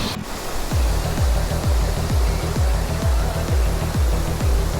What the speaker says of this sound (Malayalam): ഒരു വെള്ളച്ചാട്ടം ഞങ്ങൾ കാണിച്ചു തരാം